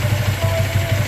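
A Yamaha MX King motorcycle engine runs steadily with the clutch held in, a close, loud, even idle with a smooth low pulse; the clutch housing is worn.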